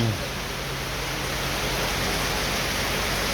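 Steady rain falling at a home in Thailand, a constant broadband hiss with even, unbroken loudness throughout and no distinct drops or thunder.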